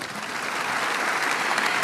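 Audience applause for Indonesia's Coordinating Minister for Infrastructure and Regional Development, a dense, steady clapping from a large crowd filling a hall, loud and sustained with no voices over it.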